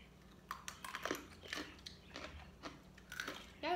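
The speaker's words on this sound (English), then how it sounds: "It tastes like a buttery, really crunchy cracker." Crunchy Korean baked potato snack stick being bitten and chewed up close, a series of sharp dry crunches in irregular bursts, each followed by softer crackling chews.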